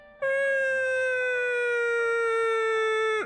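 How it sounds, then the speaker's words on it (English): An ambulance siren sound effect gives a single sustained tonal wail, loud and clean, that starts abruptly, falls slowly in pitch and cuts off after about three seconds. "every time I do that noise, my editor puts an ambulance in the background"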